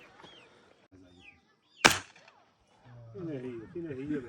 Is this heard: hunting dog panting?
no